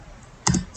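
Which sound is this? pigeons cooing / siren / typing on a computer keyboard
typing on a computer keyboard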